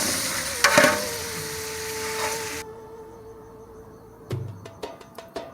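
Vegetables with green pepper and a little chili powder fry in a pan, a steady close sizzle that cuts off partway through, followed by a few sharp clinks and stirring knocks.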